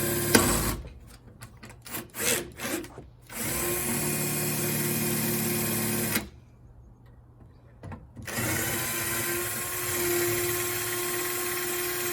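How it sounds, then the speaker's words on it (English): A power drill with a drill bit whirs in several short bursts, then runs steadily for a few seconds, pauses, and starts again, loud and close, working on a 1968 Volksrod car. "Drill bit."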